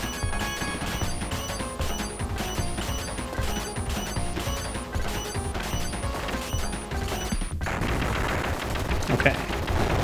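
Rapid machine-gun fire in the run-and-gun game Contra, aimed at a multi-legged boss's legs; a steady, loud rattle of shots with clanking mechanical hits, ending in a crashing burst, with a voice talking over it.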